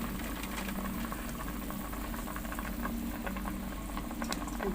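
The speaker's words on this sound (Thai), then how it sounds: "เดือดเต็มทีแล้วจ้ะ" Chicken broth for a Thai chicken soup with noodles boils hard in a pot, a steady bubbling roil with scattered pops and a low rumble that runs on evenly throughout.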